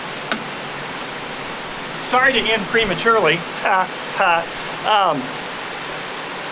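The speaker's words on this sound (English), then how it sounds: "It's really pouring down the rain now" Heavy rain pours down on a rooftop during a thunderstorm, a dense continuous roar filling the whole clip while someone speaks over it for several seconds.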